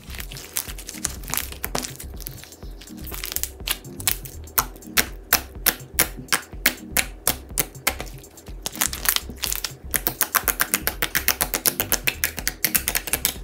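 Slime mixed with activator is squeezed and pressed close up, giving rapid, crisp clicking and crackling pops in uneven bursts that speed into a dense run of clicks near the end.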